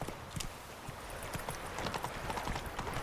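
Horse hooves clip-clopping in the video game The Witcher 3, a quick, continuous run of hoof beats over steady background game ambience.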